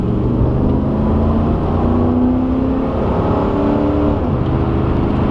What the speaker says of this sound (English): we'll see what this 350 powered car has got